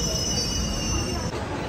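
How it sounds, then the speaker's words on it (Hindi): Metro train pulling into a station, a continuous rumbling roar with a high steady wheel whine running through it, close and loud throughout the short moment. "मेट्रो भी आ गई।"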